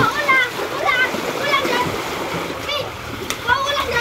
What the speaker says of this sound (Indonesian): Di sini ada anak-anak mandi dari tadi pagi.